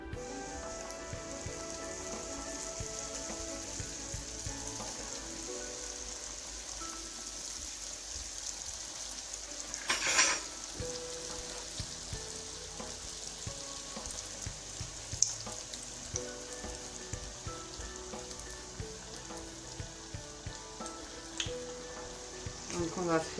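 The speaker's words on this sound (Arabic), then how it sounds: "البنات غادي نقليو دابا ان شاء الله البيني ديالنا" Beignets fry in hot oil with a steady, soft crackling sizzle, joined by occasional sharper pops and a brief clatter, while a voice talks faintly at times.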